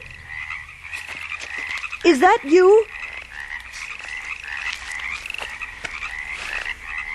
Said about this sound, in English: The crickets and frogs, they're listening.